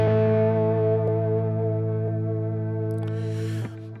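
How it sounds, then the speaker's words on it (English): Guitar through a stereo bouncing delay effect on a Hotone Ampero II Stomp: one sustained chord rings out and slowly decays, with faint echoing repeats trailing behind it. "I might up the mix so you can hear the"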